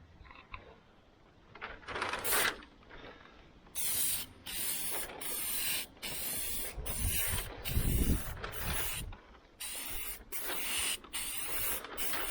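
Close aerosol spraying onto the rusty, holed roof of a 1976 El Camino in repeated hissing bursts, some longer and some clipped short, separated by quick pauses and faint handling noises.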